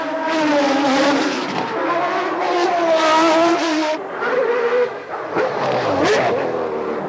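Formula 1 race cars scream around a circuit, loud high-pitched engine wails rising and falling as several cars pass close by in quick succession, with no talking.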